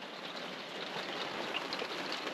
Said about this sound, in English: So of course that means it's rain time.